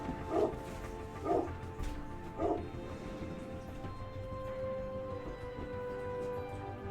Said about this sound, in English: I'm just going to go close that door so that you guys don't have to listen to the dogs.